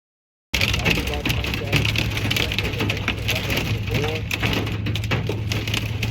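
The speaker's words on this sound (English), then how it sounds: "This hail is nuts." Hail pelts down steadily as a dense, loud, continuous clatter of pellets striking surfaces nearby, beginning abruptly and sustaining without pause.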